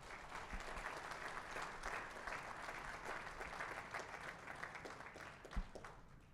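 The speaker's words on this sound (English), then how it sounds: "So please join me in a round of applause." A town hall audience at a community center applauds the staff and board of directors, with steady, even clapping from a crowd that is quiet and distant and sustained throughout.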